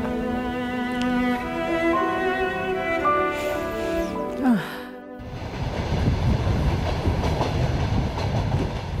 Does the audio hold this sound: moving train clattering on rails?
yes